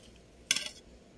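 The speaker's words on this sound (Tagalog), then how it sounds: "Lagay natin sa isang plato rin ang isang papaya" Half a papaya set down on a plate gives one short clattering knock of fruit and dish, close and fairly loud, then quiet.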